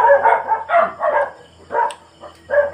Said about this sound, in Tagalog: Maingay yung aso namin dito.